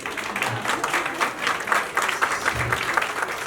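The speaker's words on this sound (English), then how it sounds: "Please clap." Audience applause at a book launch event, a steady wash of clapping from a crowd lasting a few seconds with faint murmuring underneath.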